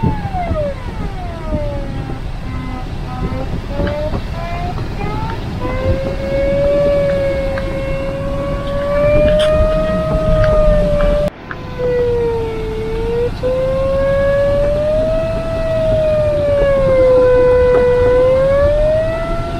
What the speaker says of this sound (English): But the sound of this variometer is so awful.